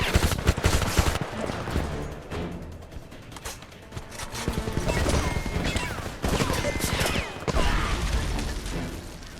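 Bursts of machine gun fire crackle in rapid strings during a Homefront firefight, alongside crashes and clanking mechanisms, loud and close with short pauses between volleys.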